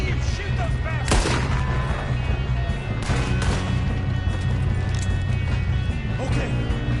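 Video game gunfire on a PS4 title, several sharp shots and bursts cracking over a dense, steady bed of combat noise and engine rumble, with voices talking through it.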